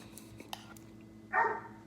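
A dog barks once at a distance, a short sharp bark standing out from a quiet indoor background with a few faint clicks before it.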